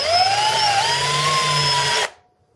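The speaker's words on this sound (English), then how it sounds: "They are rivets, so you have to drill them out" Power drill boring out rivets on Liebherr LTM 11200 crane parts with a 1/16 bit, a loud close high-pitched whine that wavers slightly in pitch for about two seconds, then stops abruptly.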